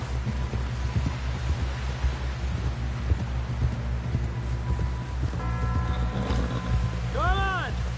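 Horse hooves clip-clopping at a steady trot in Red Dead Redemption 2, close and rhythmic over a low rumbling hum, with a few tonal chirps near the end.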